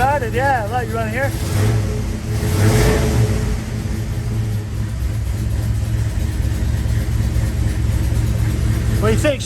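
A turbocharged Mustang engine runs just after starting, a loud steady rumble with a couple of quick revs and whistling whine at the start and end, as someone talks over it.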